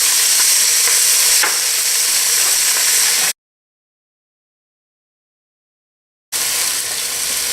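Chopped onions hitting hot fat in a pot with garlic and bay leaf while cooking lobster bisque, a loud, close, steady sizzle that cuts to silence midway, then resumes.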